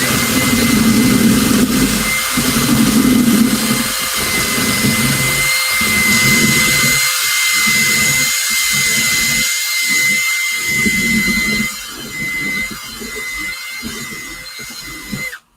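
Power drill carving into a pumpkin, a loud continuous high whine that steadies and dips with short pauses and pulses, with no talking over it.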